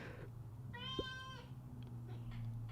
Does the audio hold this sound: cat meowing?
yes